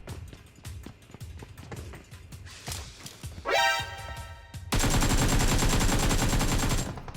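Gunfire in PUBG Mobile: a run of single shots and footsteps, then a rising whine and a loud sustained burst of rapid fire that sounds close, with no talk.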